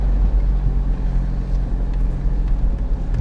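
A Land Rover Freelander 2 engine rumbles under throttle, a raspy, low steady drone heard from inside, loud and continuous with no talking.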